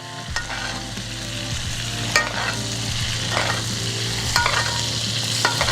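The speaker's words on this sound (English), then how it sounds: "as it's cooking, we just wanna go ahead and just baste" A ribeye steak sizzles loudly in a pan while butter and garlic are spooned over it, continuous close frying crackle punctuated by spoon scrapes and clinks, with no talking.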